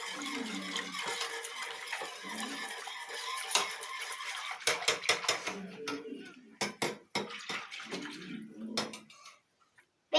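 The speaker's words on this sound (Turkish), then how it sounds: "Tabii ki kakaomuzu döktükten sonra iyice karıştırıyoruz" A spoon or whisk stirs cocoa into cake batter in a bowl, giving a continuous wet scraping that breaks into sharper clinks and taps against the bowl toward the end.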